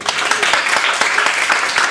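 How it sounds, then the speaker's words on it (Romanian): An audience at a university debate applauds, a loud, close, dense patter of many hands with a few sharper individual claps standing out. "Mulțumesc pentru aplauze"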